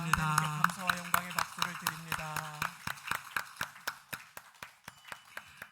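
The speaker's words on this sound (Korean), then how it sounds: "하나님께 감사와 영광의 박수를 드립니다." Rhythmic, evenly spaced clapping from a church congregation at a Sunday morning service, first over sustained music tones, then continuing alone as steady sharp claps.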